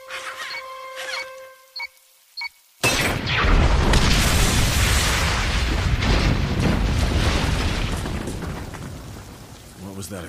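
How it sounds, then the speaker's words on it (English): A heavy explosion in a Batman and Superman animated cartoon bursts in suddenly after a few short tonal sound effects, then a loud rumbling roar of debris that fades slowly over several seconds. "What was that explosion?"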